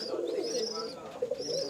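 Pigeon cooing steadily inside a racing-pigeon loft, a soft continuous murmur of low coos with a brief stronger burst near the end, fairly close.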